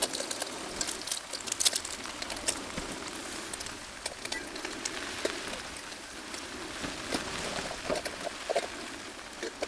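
Heavy rain pattering steadily on a camping tent and tarp, a dense close hiss with scattered louder drips and taps throughout.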